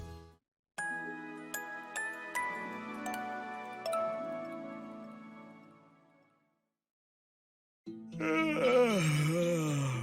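A chiming, tinkling game jingle fades into silence, then a big, drawn-out yawn from a Camp Buddy visual-novel character rises and wavers loudly at the end.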